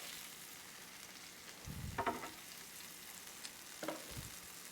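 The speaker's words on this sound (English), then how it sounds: "Just gonna put a little sizzling hot bell pepper and onion right over that." Soft, steady sizzling of bell pepper and onion frying in a pan, with a couple of brief stirring scrapes, quiet and close, no voices.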